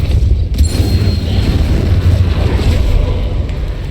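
A Depulso force spell fired in Hogwarts Legacy gives a deep, rumbling boom with a windy rush that runs steadily through the whole stretch, loud and close with no voices over it.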